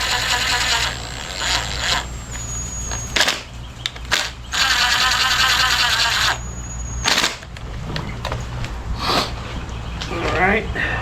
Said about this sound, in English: these will get torqued down to 22 foot, so we'll stay at 11 for now, just to get them close evenly